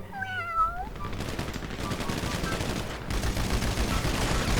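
Gunfire in GTA V on a FiveM server: rapid automatic bursts rattling on continuously and growing louder, after a short mewing sound at the very start.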